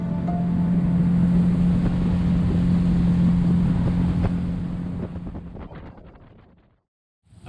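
A motorboat engine drones loudly and steadily with wind rushing past, then the noise fades away and cuts out near the end.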